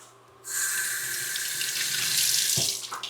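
A kitchen faucet runs in a steady, close stream for about three seconds while a fingertip is wetted to seal a Korean BBQ birria egg roll, with a brief knock near the end.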